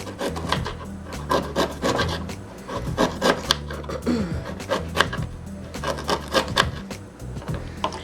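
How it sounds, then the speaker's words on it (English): A knife cuts a ginger root into pieces on a cutting board, making close, repeated chopping and scraping strokes in uneven bursts with brief pauses between them, and no talking over it. "what we're going to start off doing is cutting up our ginger root"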